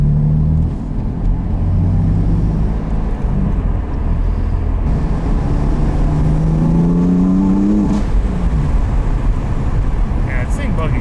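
A drift car revs and accelerates hard, its engine rising through several climbing pulls in a loud, close roar, with a voice talking over part of it.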